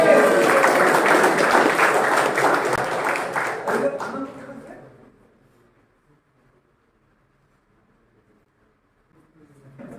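Audience applause at a youth festival gathering, a dense, loud burst of clapping for about four seconds that fades out into near silence.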